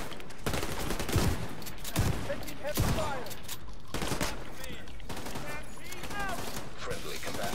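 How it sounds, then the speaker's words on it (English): Gunfire from a firefight in the video game The Division 2, with repeated shots and bursts running steadily through the whole stretch, mixed with voices and game chatter over a busy, dense combat bed. "Good shooting."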